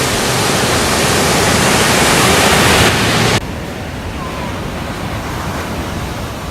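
Strong ocean surf at Laguna Beach, California, a loud, continuous roar of breaking waves mixed with wind buffeting the microphone, easing slightly partway through.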